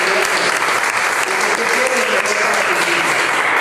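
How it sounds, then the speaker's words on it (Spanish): A church congregation applauding during a Spanish-language service, dense steady clapping from many people, loud and close, with faint voices mixed in beneath. "Denle un fuerte aplauso al Señor."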